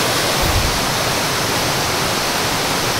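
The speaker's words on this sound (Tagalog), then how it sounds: "So andyan lang yung sapa sa baba." A flowing stream below a path rushes steadily, a loud and constant broadband wash of water with no other sound.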